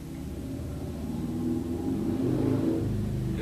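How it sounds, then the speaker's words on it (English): A motorcycle engine rumbles past outside, growing louder and revving over a few seconds as it goes by, a steady mid-distance drone with no talk over it. "And that's a motorcycle outside."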